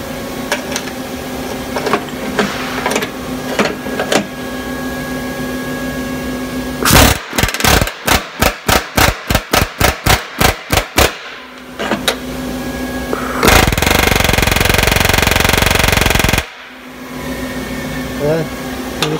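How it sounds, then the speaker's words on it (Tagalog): An electric auto chisel power tool hammers in a rapid burst of about a dozen loud, evenly spaced blows, then runs in one continuous harsh buzz for a few seconds. A voice talks before and between the bursts. "Ito yung kalakasan nitong ano, chisel na ito, talagang ang lakas nito kapag sa mga tatanggaling ano, babakbakin."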